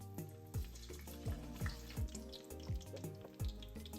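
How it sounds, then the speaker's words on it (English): Soft, steady sizzling of plantains frying in hot oil, quiet and close, with a regular low thumping beat running underneath. "I'm gonna fry these for maybe 30 seconds just so I can seal in the salt flavor."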